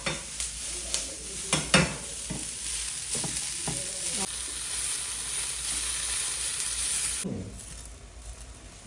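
Capsicum and onion frying in a pan for chicken pasta, a loud close sizzle with repeated scraping stirs early on, settling into steady hissing before a final stir.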